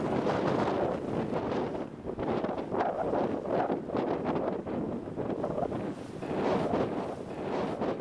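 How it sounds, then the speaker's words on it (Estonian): Strong storm wind, over 17 metres per second, sweeps across an open field, roaring and buffeting the microphone in continuous loud gusts with no voices. "Tuulel on kiirust rohkem kui 17 meetrit sekundis ja lage väli ei takista kuidagi tormi"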